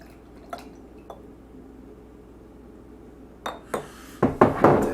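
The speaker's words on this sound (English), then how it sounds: "So let's try, excuse me, the old double pour. 2 different size bottles." Samuel Adams Chocolate Bock beer is poured from two different-size bottles: a few faint glassy clinks in near silence, then closer gurgling splashes and foamy pouring that grow louder at the end.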